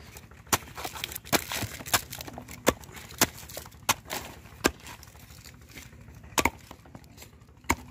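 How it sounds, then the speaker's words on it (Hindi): Sharp woody chopping strikes from a blade finely cutting a banana stem land one after another at an irregular pace, each a crisp, close thwack with quiet pauses between. "तो इसको भी अब हम बारीक काटते हैं"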